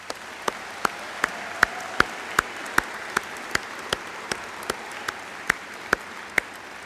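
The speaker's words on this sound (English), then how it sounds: "Please join me in a round of applause for them." Sparse, slow applause at a university opening convocation, a handful of distinct hand claps spaced evenly in a quiet hall, soft and somewhat distant.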